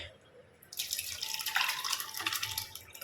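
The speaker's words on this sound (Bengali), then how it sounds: "আর আছে হচ্ছে আইস চলো ঢেলে নি ফটফট করে" Ice being poured into a drink with watermelon, a brief clattering, splashy rush that starts abruptly and tapers over a couple of seconds, close and moderately loud.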